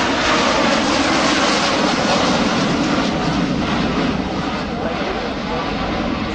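A Boeing 757 jet airliner passes at the RIAT 2009 air show with a loud, continuous, broadband engine roar that holds steady throughout.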